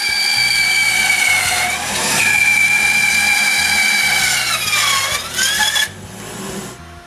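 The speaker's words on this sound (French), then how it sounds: "Je les coupe avec la scie à ruban." A band saw cutting wood pieces to a pattern, giving a steady loud whine with a ringing tone that shifts pitch as the blade bites, then eases off near the end.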